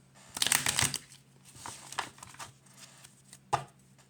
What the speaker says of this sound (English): Here we have our minor arcana cards. Let's go ahead and shuffle.